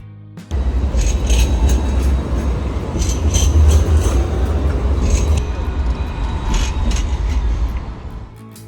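Steady rumbling street traffic in central Sydney with trams gliding past and double-decker buses, a continuous loud low roar with scattered clinks and rattles throughout, no talking.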